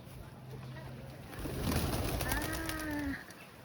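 Pigeons coo softly nearby with a brief flutter of wings, over a low background hum.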